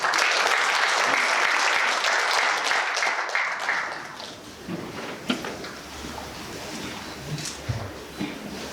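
Audience applause at a ceremony marking the 102nd anniversary of the Battle of Cheongsanri: a dense burst of many hands clapping fills the first few seconds, then fades out, leaving scattered room noise and a few faint thumps.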